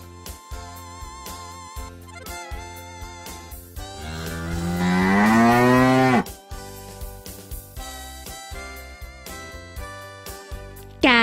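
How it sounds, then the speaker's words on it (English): A cow lets out one long, loud, rising moo lasting a couple of seconds, set amid light rhythmic background music with tinkling notes before and after. "Cow."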